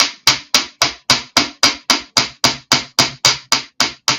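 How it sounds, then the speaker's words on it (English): Metal wire for jewelry is struck with a hammer in about sixteen evenly spaced, loud, sharp blows, each one ringing briefly before the next lands. "I'm really going to hammer this out."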